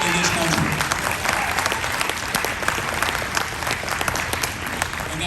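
A crowd in a room at a Republican political speech breaks into sustained, dense applause, loud and continuous from start to finish, with some voices mixed in.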